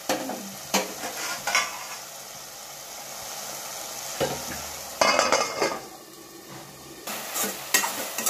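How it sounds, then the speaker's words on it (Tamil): Onions and vegetables for a lentil kuzhambu sauté in a hot pan, a soft continuous sizzle punctuated by bursts of spatula stirring and scraping against the metal. "கொஞ்சம் நல்லா வதங்கட்டும், வதங்கவும் சேர்த்து தட்டிடலாம்."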